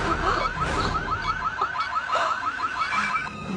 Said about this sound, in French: Si tu n'arrêtes pas cette alarme tout de suite